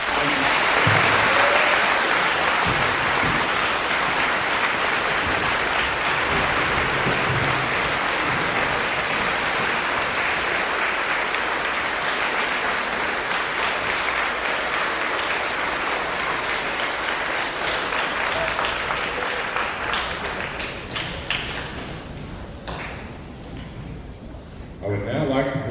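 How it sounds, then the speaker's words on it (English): An audience at a school veterans' assembly applauds veterans, a dense, sustained roar of clapping that holds for about twenty seconds before thinning out and fading near the end. "Let's give these fine men and women a round of applause."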